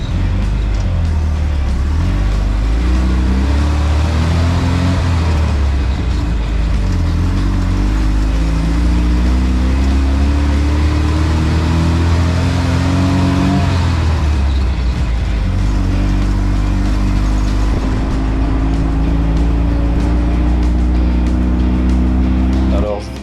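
A Renault R2087 utility pick-up drives off, its engine loud and close, revving up and shifting through rising pitch sweeps, with talk faintly underneath.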